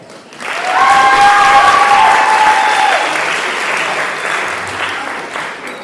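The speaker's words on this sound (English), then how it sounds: "we applaud you and are so proud to be able to honor you this evening" Audience at a community learning center graduation and awards ceremony breaks into loud, sustained applause that swells quickly and slowly tapers, with faint cheers or voices above the clapping.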